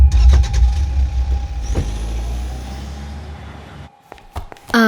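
A car engine rumbles loudly at close range with bursts of throttle, then fades as the vehicle drives off, followed by brief quiet and clicking sounds.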